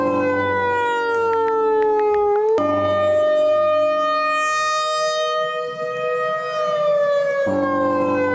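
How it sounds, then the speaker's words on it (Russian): Fire alarm siren in a Roblox school roleplay game, a loud continuous wailing tone that slides slowly up and down in pitch, filling the whole stretch with no talk over it. "Сирена. Что это? У нас тут пожар."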